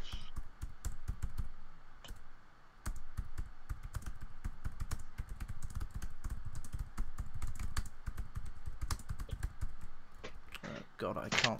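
Rapid irregular clatter of typing on a computer keyboard, close and steady throughout with brief pauses, ending in a short burst of other noise.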